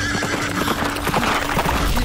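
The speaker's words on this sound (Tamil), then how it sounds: "இப்ப போனது கருப்பு குதிரை தானே பார்த்த?" A black horse passes by, hooves clip-clopping in a quick steady rhythm while it neighs loudly, close and continuous in a Tamil Christian film scene.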